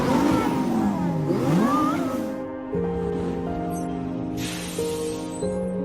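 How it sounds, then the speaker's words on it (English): Lamborghini sports cars in a parade, engines revving with rising and falling pitch, then settling into a steady droning pass, loud and close. "And here is a Lamborghini parade."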